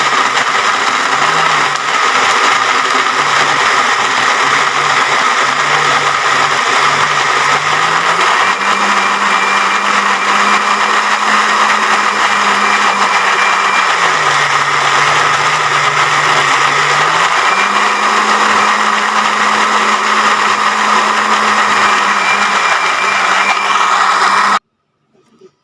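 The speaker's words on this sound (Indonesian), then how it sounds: "Oke, setelah itu kita bisa blender." A kitchen blender grinds rendang spice paste with a loud, continuous motor whine whose pitch shifts up and down as the load changes, then cuts off abruptly near the end.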